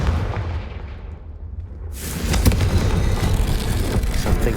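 A Confringo fire spell detonates in the Hogwarts Legacy video game, a sudden loud fiery burst that gives way to a sustained roaring, crackling rumble with sharp cracks mixed in.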